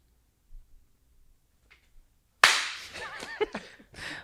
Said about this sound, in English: I thank you for the one clap.